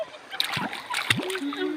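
A girl swimming sends up short, choppy water splashes in quick bursts, with voices talking over and between them.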